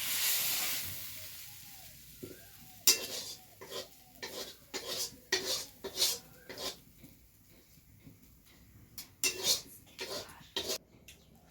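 Curry being stirred in a metal pot over a village clay stove: repeated scraping clatters and clinks of a spoon against the pot in uneven bursts, close by, with a faint sizzle underneath and no talking.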